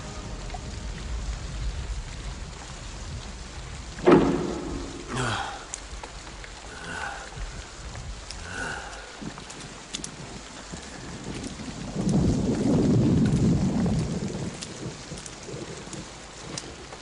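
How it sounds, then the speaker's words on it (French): Steady rain pours onto surfaces while thunder cracks sharply once and a low rumble swells later, the downpour hissing continuously beneath both. "Je constate que Baal nous a envoyé la pluie."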